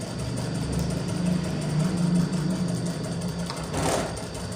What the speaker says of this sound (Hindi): पहले हमने किनारे की सिलाई ली है, फिर एक पैर की सिलाई ली है, अब हमने आधे पैर की सिलाई ली है